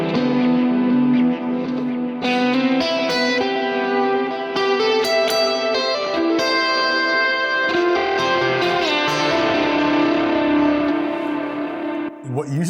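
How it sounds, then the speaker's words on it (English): Electric guitar through an ambient patch with overdrive engaged and chorus switched off, sustained distorted chords and notes washing together in long reverb and echo tails, steady and fairly loud throughout with a brief dip near the end. "this drive ambient is exactly the same as the clean ambient, except I turned off the chorus and this overdrive stays on."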